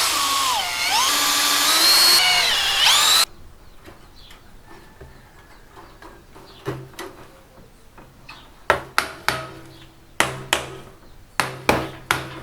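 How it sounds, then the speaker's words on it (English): A whining power drill runs for a few seconds, drilling parts for a chicken pest trap, then stops, followed by a series of sharp, evenly spaced knocks and clicks. "I'm just gonna drill this one first, one time on both sides"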